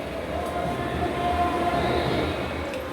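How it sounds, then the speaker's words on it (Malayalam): Mixer grinder blending grated coconut into milk in a Kerala home kitchen, a loud, steady motor whir and rumble held for about three seconds, close and alone with no talking. "ഞാൻ എന്താ മിക്സിയിൽ അടിച്ചെടുക്കാൻ പോയെന്ന്"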